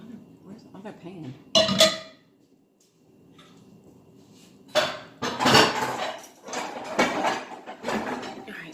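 Metal pots and pans clatter and clank in a home kitchen while breakfast is prepared: one sharp burst, a quiet pause, then a longer run of loud, irregular banging and scraping.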